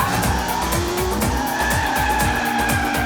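A car swings around in a skidding U-turn during a Hindi action film scene, its engine droning steadily under a drawn-out tire squeal that lasts the whole moment, with no voices.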